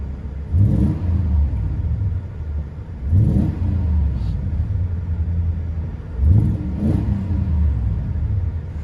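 Interior of a 2000 Toyota Tundra with a 4.7L V8 and Magnaflow dual exhaust with 4-inch tips: deep engine rumble with three swelling revs spaced a few seconds apart, steady drone between them, no talking.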